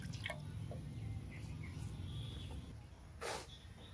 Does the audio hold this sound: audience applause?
no